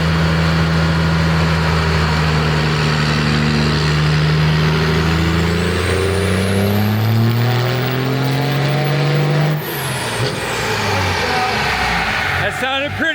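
A 33-year-old diesel pickup engine with its wastegate crimped closed roars under load during a dyno pull, a loud, sustained, rising drone with a whine climbing above it, then drops off sharply as the pull ends.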